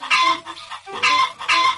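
A rooster crows loudly at close range in three rising bursts that sound harsh and clucking, heard alone with no talk.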